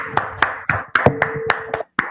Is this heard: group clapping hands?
yes